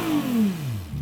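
A Ferrari supercar engine revs in a muffled, subdued tone, a single rising-then-falling sweep of exhaust note heard close and steady for about a second with no talk.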